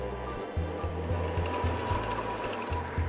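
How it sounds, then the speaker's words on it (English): Fish sauce, sugar, lime juice and rice vinegar are stirred together in a bowl for a Vietnamese noodle salad dressing. Quick, regular mixing strokes repeat close by over a soft background hiss. "Now we're just going to mix to dissolve the sugar."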